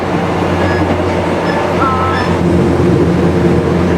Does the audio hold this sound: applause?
no